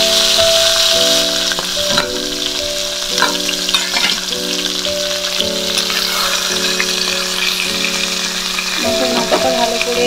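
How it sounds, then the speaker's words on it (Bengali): A fish head fries in hot oil in a wok with a loud, continuous crackling sizzle and a few stirring scrapes. A repeating humming tone pattern runs underneath. "মাছের মাথাটা ভালো করে ভেজে নিতে হবে"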